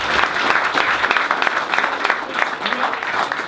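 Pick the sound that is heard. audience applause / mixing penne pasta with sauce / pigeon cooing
audience applause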